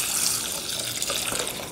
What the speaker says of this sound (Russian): Для начала заливаем гречку водой, чтобы она немножко так постояла.